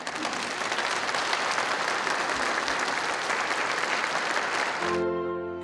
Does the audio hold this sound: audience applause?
yes